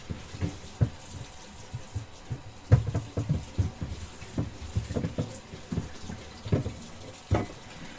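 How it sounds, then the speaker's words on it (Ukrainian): Warm water is poured onto a garden bed being sown with dill, giving soft, irregular splashes and trickling taps close by at low volume. "трішечки її проливаємо теплою водичкою. щоб воно в нас стало вологе."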